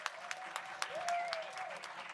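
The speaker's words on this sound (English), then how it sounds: "Let's give them another round of applause" An audience at a school district board of education meeting applauds briefly for staff being honored for ten years of service, a moderate round of clapping in a hall.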